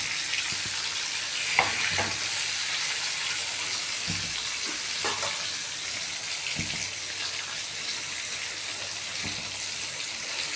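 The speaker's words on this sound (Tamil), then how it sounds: "தோசைக்கல்லில் வறுக்கும்போது கொஞ்சம் வேக விட்டு திரட்டி போட்டால் தான் மீன் உடையாது," Fish fries on a dosa griddle with a steady, moderate sizzle, while occasional soft knocks and scrapes from a turner sound over the constant hiss.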